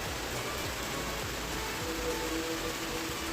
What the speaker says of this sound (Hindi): इतना बारिश की क्या बताऊँ